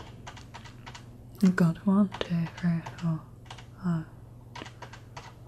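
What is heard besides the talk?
pressing brightness button on Corsair K70 RGB mechanical keyboard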